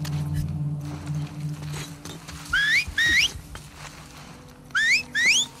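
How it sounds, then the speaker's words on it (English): A person whistles in two pairs of sharp rising two-note calls, clear and fairly close, from the video game The Last of Us Part II, over low ambient game noise. "Who the fuck are you whistling to?"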